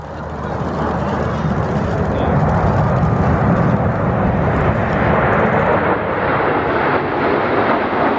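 RAF Red Arrows jets flying a nine-aircraft display at the RAF Cosford Air Show, a loud, steady broadband roar that builds in the first second and holds throughout, with faint commentary beneath.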